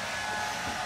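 A hair dryer blowing with a steady, loud whooshing whir that holds constant over a brief moment.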